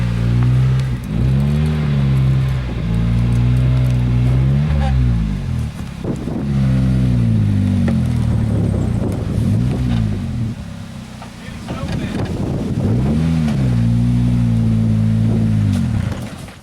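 A front-wheel-drive car reverses up a hill, its engine droning and revving hard in loud, wavering surges while the wheels spin, with brief easing around the middle before it strains again.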